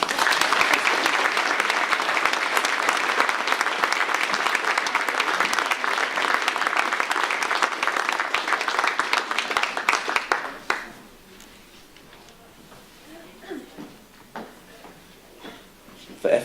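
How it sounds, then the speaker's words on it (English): Sustained applause from a school certificate-of-achievement audience, dense and steady for about ten seconds, then fading into scattered claps and room murmur. "A round of applause, please."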